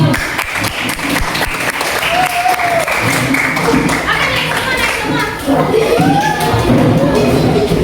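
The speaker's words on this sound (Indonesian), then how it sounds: "Beri tepuk tangan untuk" A classroom of students claps for the first presenting group in a coding and AI lesson, steady dense applause lasting several seconds, with children's voices and chatter mixed in.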